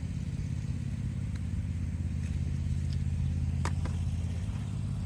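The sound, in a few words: riding lawn mower engine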